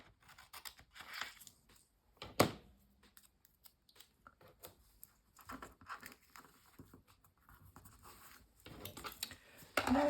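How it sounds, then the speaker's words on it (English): Scissors snip paper off a handmade December journal page, a few close crisp cuts with light rustling and handling noise between them, quiet overall. "So I'm just going to cut this one off."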